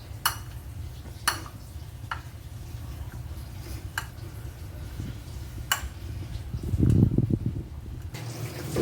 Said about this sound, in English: And a little bit of ketchup. And now mix it well.